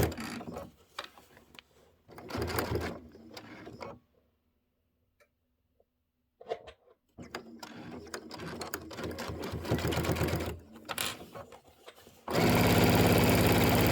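A sewing machine stitches through a quilted table topper in bursts of rapid, even mechanical ticking, stopping for a silent pause midway, then resuming and running steadily to the end.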